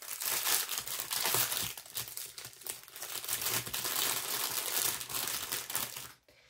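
Plastic packaging around single resin molds being torn open, heard as loud, dense crinkling and rustling close up for about six seconds before it stops abruptly.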